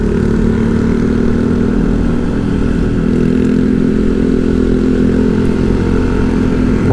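A weak motorcycle engine labours up a steep hill on a night ride on the Cidaun–Naringgul–Ciwidey mountain road, a loud continuous drone that holds steady throughout without a break.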